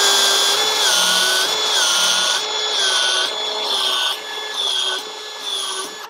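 A Milwaukee ProPex expansion tool expands half-inch PEX pipe, its motor whining in repeated cycles of about a second each, loud and close, pitch rising and falling with each stroke and a short retract between.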